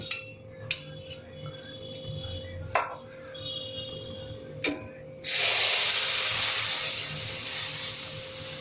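Water is splashed into a hot pan where kulcha is cooking, setting off a sudden loud, sustained sizzling hiss of steam after a few faint clinks of utensils.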